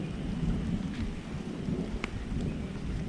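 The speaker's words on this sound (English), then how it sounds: "soon the thunder and lightning set in, just in time for our evening meal" Steady rain patters down on a caravan trip in South Africa while a low rumble of thunder rolls through, with a sharp crack near the middle.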